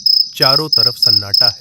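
Crickets chirping at night beside an old village footpath: a steady, high, continuous trill running under a voice that speaks in short phrases.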